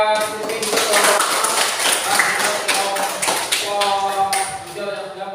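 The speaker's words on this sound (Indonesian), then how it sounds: "tepuk tangan buat ini" A classroom group claps in a fairly dense, steady patter of hand claps, with voices chattering over the applause throughout.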